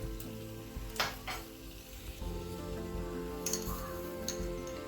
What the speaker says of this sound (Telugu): ఇప్పుడు ఇదే ఆయిల్లో మనం తాలింపు కావాల్సినవి వేసుకుందాం.